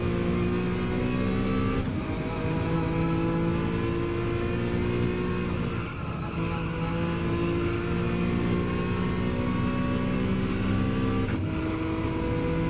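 Citroen race car in Gran Turismo 7 at Catalunya, its engine droning at a sustained high pitch with shifting harmonics and a few brief dips as gears change, loud and continuous with no talk.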